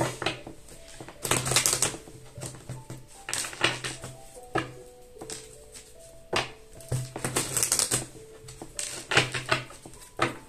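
Tarot cards shuffled by hand, a series of irregular riffling bursts and soft slaps close up, repeated throughout with brief pauses.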